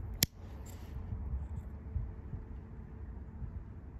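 Pruning shears cut back a cedar bonsai branch with one sharp, close snip near the start, then faint handling rustles over a quiet background hum.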